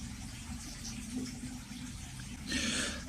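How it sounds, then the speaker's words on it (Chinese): Running tap water splashes steadily and softly as a white strawberry is rinsed, with a brief louder gush of water near the end. "再用清水洗一下"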